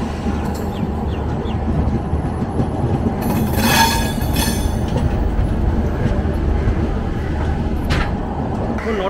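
Inside an AC two-tier coach of the 12314 Sealdah Rajdhani Express under way, a deep steady rumble runs throughout. Rhythmic wheel clatter sounds beneath it, and a brief metallic wheel squeal comes midway.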